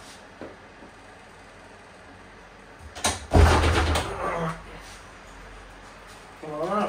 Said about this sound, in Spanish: voy a abrir la puerta